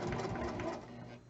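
A sewing machine runs steadily while stitching a pinned fabric strap, a soft, even mechanical whir that slows and fades near the end.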